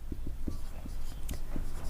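Short, evenly spaced strokes of writing on a board while working out a commercial maths problem, faint and quick against a quiet room.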